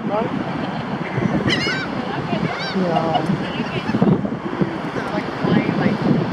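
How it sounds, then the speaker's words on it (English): Geese honk and squawk in bursts amid strong wind buffeting the microphone on a beach in Galveston, Texas, with wingbeats and people talking nearby. "with these birds flapping right around them like this"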